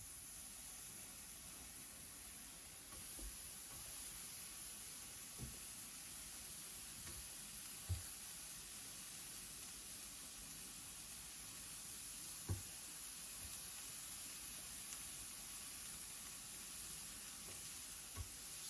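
Thin beef strips fry in a pan with a quiet, even sizzle, with a few soft ticks and pops dotted through it.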